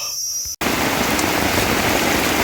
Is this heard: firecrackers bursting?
no